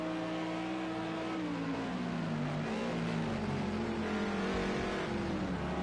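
A McLaren GT3 race car in a racing video game accelerates at the Nürburgring, its engine note climbing and shifting in a steady, moderately loud whine with no talk.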